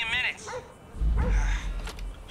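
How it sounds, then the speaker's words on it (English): Dog barking in the GTA V video game, a few yips and barks mixed in with game noise and someone talking over them. "Shut that damn dog up."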